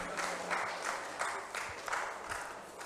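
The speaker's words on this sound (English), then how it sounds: "please let's give them a last round of applause." A school audience gives trainers a round of applause, a faint, distant patter of many hands clapping in loose bursts for about three seconds.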